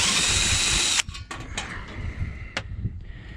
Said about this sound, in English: So that's why we do these self-tappers. These self-tapping screws are